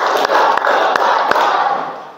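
A classroom of children clapping a tepuk rhythm pattern together, with several sharp group claps spaced through a steady background of crowd noise and voices.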